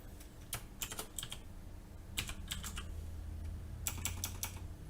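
Fingers type on a computer keyboard while someone enters code for an Arduino project, three quick bursts of close, crisp key clicks separated by short pauses over a low room hum.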